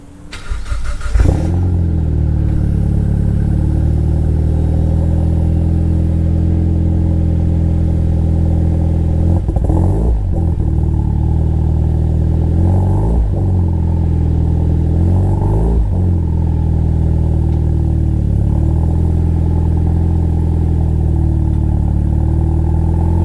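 A Mitsubishi Lancer Evolution X engine idles and runs steadily, with a few brief revs and clunks as the car creeps forward into a garage, close and loud throughout.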